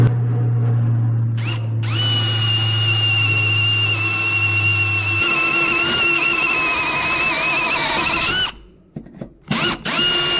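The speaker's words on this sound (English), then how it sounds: "I use this unibit, give myself an 1/8 inch pilot hole, and away we go." A power drill with a unibit whines steadily as it bores out spot welds in a truck bed, a high, sustained tone, then stops and gives a few short bursts.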